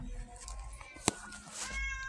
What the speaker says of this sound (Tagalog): Eto si Ulap po. Aming pusa.